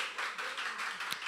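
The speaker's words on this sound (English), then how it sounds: "can we clap for him?" Audience applause at a parenting session, a dense steady patter of many hands clapping together at moderate volume for the whole stretch, with no voices standing out.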